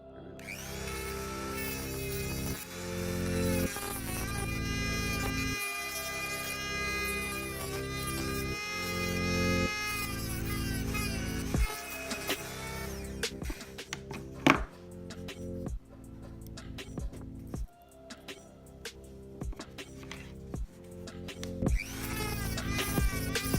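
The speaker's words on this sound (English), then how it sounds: "I'm going to give you a quick little demonstration of how to open this with a Dremel, a terrible Dremel from Workzone" A cheap Workzone Dremel-style rotary tool grinds into a halogen angel eye headlight bulb for a BMW E90 LCI, its high motor whine rising and falling in speed before giving way to clicks and scraping knocks.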